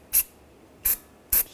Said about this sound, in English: Now I'm just going to spray this down with some anti-seize.